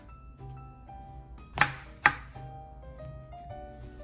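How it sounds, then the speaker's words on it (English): Two sharp knife chops through loofah on a cutting board, slicing it into bite-size rounds for a Thai Isan bamboo shoot soup, loud and close against a quiet background with faint steady tones. "Cut loofah into a circle bite size."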